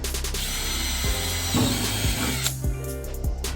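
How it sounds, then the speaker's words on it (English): A power drill bores holes into a snake enclosure for a tree boa, whirring loudly and steadily with a few brief pitch dips as the bit bites in, close up and alone. "I'm basically just going to drill 2 holes"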